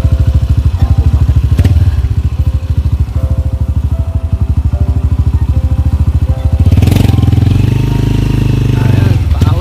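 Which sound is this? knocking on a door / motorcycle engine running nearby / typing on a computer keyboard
motorcycle engine running nearby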